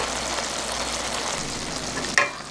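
Dak-galbi with sliced potatoes simmering in a pan on low heat, a constant close bubbling sizzle with a brief sharp clink near the end, no talking.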